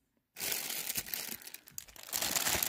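A reusable shopping bag brought from home crinkles and rustles loudly and close up, starting abruptly and continuing in uneven crumpling bursts.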